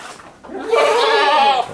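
A three-week-old goat kid lets out a single loud, close bleat, a wavering cry lasting about a second after a short quiet lead-in.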